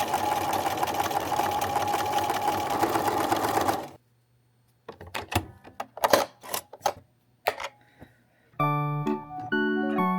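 Sewing machine stitching a waistband onto shorts made from bed sheets, a loud steady motor whir for several seconds, then stops, followed by scattered taps and clicks and a short musical passage.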